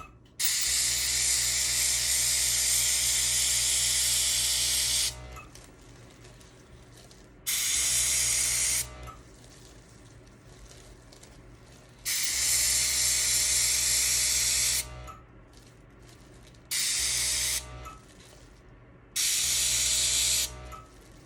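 Airbrush spraying copper fluid acrylic paint, bursts of bright, loud hissing air in five separate blasts of a few seconds each, with quiet gaps between them.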